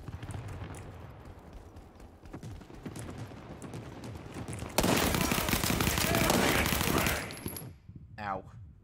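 Sniper and machine gun fire in a shooter video game: scattered shots over a rumbling mix, then a dense, loud stretch of rapid automatic fire that cuts off into quieter mechanical clicks and a brief whine.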